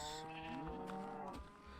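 A Minecraft cow gives a short moo, continuous across the brief span at moderate level with no talk over it.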